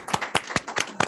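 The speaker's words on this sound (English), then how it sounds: "Could we give Dick a round of applause?" A small group at a board of directors meeting gives a brief round of applause, about five loose bursts of clapping over roughly a second, close and fairly light.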